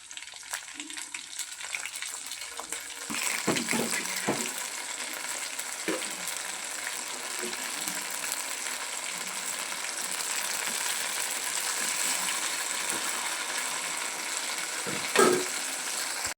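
Prawn kebabs coated in masala and semolina fry in a pan of oil with a steady, dense sizzle and crackle. Occasional scrapes and clinks of stirring come through, and a faint voice is heard now and then.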